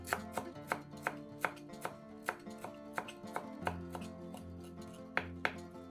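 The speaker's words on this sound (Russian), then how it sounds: "Большой пучок укропа измельчаем ножом." A knife chops dill on a cutting board in quick, regular taps, with soft background music playing underneath.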